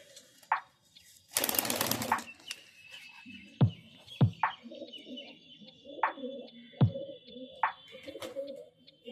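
Several Calcutta-bloodline pigeons coo softly and repeatedly at close range, with sharp knocks and a short loud burst of noise early on.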